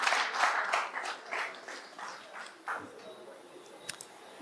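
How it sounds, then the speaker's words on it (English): Audience at a DLP St. Philip North branch party meeting clapping, a fairly faint, sparse round of applause that thins out over a few seconds. "So let's give her a round of applause."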